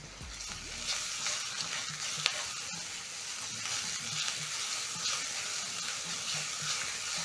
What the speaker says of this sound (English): As the onions and garlic are cooking